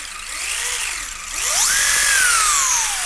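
The electric motor of a Losi Promoto RC motorcycle whirs up, its high whine sweeping up and down in pitch before settling into a loud, sustained rising scream, close by and alone.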